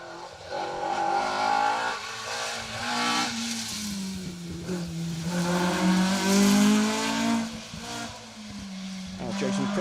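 A Ford Escort RS 1800 rally car on a tarmac stage of Rally Ceredigion, engine droning and rising and falling as it drives past, with commentary talking over it.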